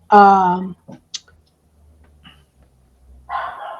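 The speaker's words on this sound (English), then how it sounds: "My dogs are freaking out." A single loud dog bark up close, followed by softer yips and small noises, then another bark-like burst near the end.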